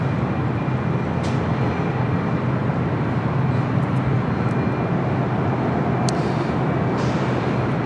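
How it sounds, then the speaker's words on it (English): A passenger airliner on approach to land at LAX, a flight arriving from London, gives a steady, loud broadband jet roar that lasts the whole stretch without a break. "It decided to land on the south side. The flight coming in from London."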